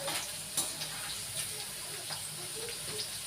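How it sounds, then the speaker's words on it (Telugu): Okra frying in oil in a pan, a soft, continuous crackling sizzle with small pops, fairly quiet and steady throughout. "ఇట్లా నూనెలో వేంపడం వల్ల జొల్ల అయితే పోతుంది"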